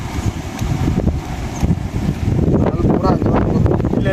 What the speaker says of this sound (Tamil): காற்று இங்கிட்ட அடிக்குது.